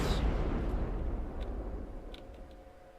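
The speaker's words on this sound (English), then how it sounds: "Do excuse the loud noise that happens every now and then due to the cannon firing." A single heavy cannon blast in the video game From the Depths, loud and booming at the start and then rumbling away over a few seconds, with faint clicks later on.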